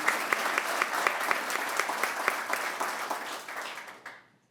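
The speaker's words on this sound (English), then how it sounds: "So I'm going to give Al a round of applause myself." Audience applause for the village administrator at Woodridge's 2025 State of the Village event, a steady sustained clapping from a large crowd that carries evenly before tapering off and fading out near the end.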